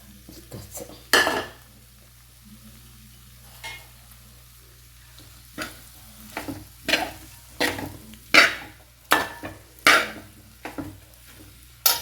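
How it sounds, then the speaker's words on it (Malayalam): Chillies and garlic are added to an elephant yam pickle cooking in a pan, with a series of irregular, close spoon scrapes and clanks against the pan over a faint sizzle. "അപ്പോൾ നന്നായി മൂത്ത് അച്ചാറൊക്കെ റെഡിയായി അതിലേക്ക് നമ്മൾ എടുത്ത് വെച്ച മുളകും വെളുത്തുള്ളിയൊക്കെ ചേർത്ത് കൊടുക്കട്ടോ"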